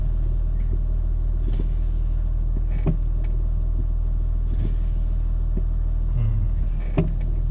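Ford Territory engine idling steadily after an ABS pump replacement, a constant low rumble throughout with a few faint clicks and knocks on top, no talk.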